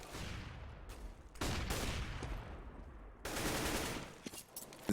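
Counter-Strike gunfire on the cobblestone map during a competitive match, sharp rapid bursts of automatic shots with a gap, then a sustained volley ending in a few scattered pops, loud and close.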